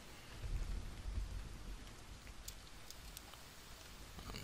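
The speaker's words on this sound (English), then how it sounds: "Well, it is raining." Steady rain pours down with low rumbles of thunder rolling underneath, heard outdoors near a forest on a gloomy day, with a soft hiss throughout and no talking.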